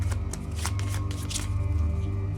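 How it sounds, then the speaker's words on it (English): Rapid papery riffling of board game cards being shuffled up close over a low steady hum. "I'm going to have to shuffle these"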